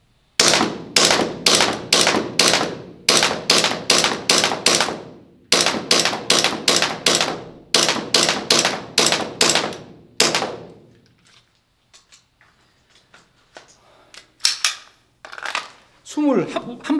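Rapid gunshots from an airsoft or pistol fitted with a Redwin Cobra RMR sight, fired in three quick strings of sharp, loud cracks, about twenty shots in total, then quieter handling clicks and faint noises.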